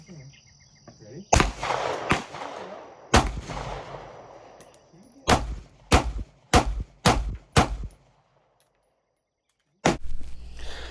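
Several sharp P08 Luger pistol shots ring out close and loud, a couple of spaced reports followed by a quick string of five, then a brief silence before more noise resumes.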